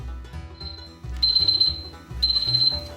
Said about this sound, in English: There's our timer